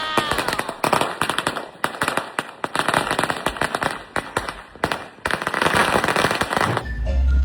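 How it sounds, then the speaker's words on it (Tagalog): Rapid crackling bursts of firecrackers and fireworks at a New Year celebration pop continuously, dense and loud like a string of explosions, with a brief lull before the end. "Dami fireworks!"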